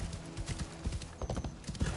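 Horse hooves clip-clop in a quick, uneven rhythm as a mount is ridden through a village in the video game Assassin's Creed Shadows, with a brief whinny-like sound among the footfalls.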